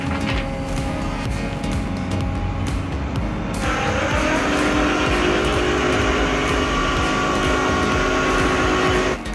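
Pagani Zonda Barchetta with a manual-transmission V12 roars loudly close by, a sustained rich engine note that shifts pitch midway as revs change, with faint tire noise underneath.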